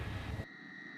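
A Harrier jet at the RAF Wittering airbase gives a loud, steady roar with a high whine. The roar drops off abruptly halfway through, and a faint sustained tone remains.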